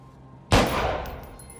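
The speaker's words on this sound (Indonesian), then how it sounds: "tiba-tiba Doron mendengar suara tembakan." A single sharp gunshot in a film cracks out after a moment of quiet, followed by a fading echoing tail.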